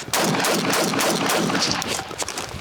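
Rapid gunfire from a shooting test with active military personnel, a dense burst of loud, sharp shots fired in quick succession and filling the whole stretch with barely a pause.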